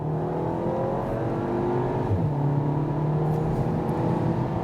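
A Skoda Octavia RS engine pulls hard under acceleration, a smooth rising drone with a brief dip like a gear change before climbing again, heard steadily from inside the car.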